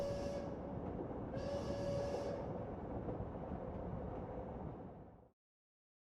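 Rumbling train sound effect from the Heart of the Woods video game: a steady, dense rolling roar with faint high hiss swells that runs for about five seconds, then cuts off abruptly into silence.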